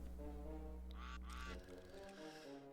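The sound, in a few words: ducks honking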